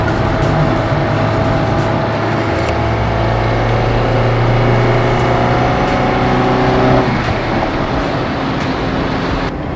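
A 1987 Volkswagen Passat LSE with a 1.6 engine runs at a loud, steady idle-to-mid rev, holding a constant tone for about seven seconds before the pitch drops slightly near the end.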